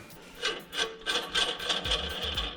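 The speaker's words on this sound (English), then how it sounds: "Had no problem cutting that hardened axle shaft." A thread-cutting die grinds onto a hardened axle shaft during a hydraulic disc brake install on a Coleman CT200U-EX mini bike, rough rasping strokes repeating in uneven bursts close by.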